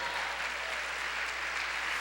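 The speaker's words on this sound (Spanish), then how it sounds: "Dale fuerte el aplauso al Señor." A church congregation applauds during a Spanish-language sermon, a continuous wash of many hands clapping at an even level throughout, with no break.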